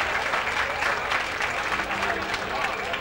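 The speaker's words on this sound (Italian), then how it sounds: "Complimenti, un applauso anche a Flavia." Audience applause at a beauty pageant, a sustained round of clapping with crowd murmur and a voice faintly beneath.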